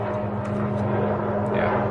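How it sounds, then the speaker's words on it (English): A helicopter drones overhead, a low steady rotor thrum with a constant hum, faint and continuous over two seconds. "Yeah, that's a helicopter."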